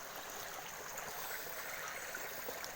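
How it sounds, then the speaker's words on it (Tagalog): Water from a small waterfall spills over rocks, a soft, steady hiss of flowing water that stays even and fairly faint throughout. "Dito nanggagaling yung tubig."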